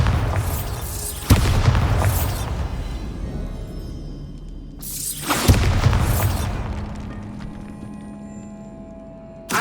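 Two heavy spell blasts from the Bombarda explosion spell in Hogwarts Legacy, each a sharp loud boom followed by a long rumbling decay, with debris rattling between them.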